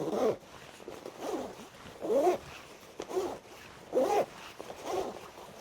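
Zipper on a Patagonia Torrentshell 3L rain jacket pulled up and down repeatedly, a series of close, smooth raspy zips in a steady back-and-forth rhythm, with no talking.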